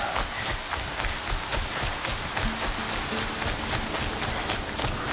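Steady rain falls in the video game Horizon Zero Dawn, a soft, even hiss of drops on surfaces, faint and continuous with no voices over it.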